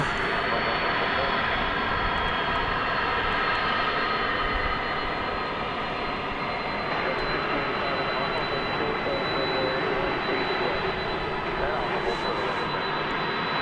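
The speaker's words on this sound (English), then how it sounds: "So it looks like the 767 is on the move." A Boeing 767 moves at night at DFW airport with a constant loud jet engine roar and a thin high whine held throughout.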